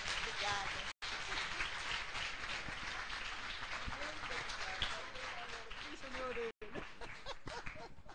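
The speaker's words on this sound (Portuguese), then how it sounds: "Aplauda o Senhor em nome de Jesus." Congregation applauding in a church at the close of a worship service, steady broadband clapping sustained throughout with two very brief dropouts, voices singing or calling along underneath.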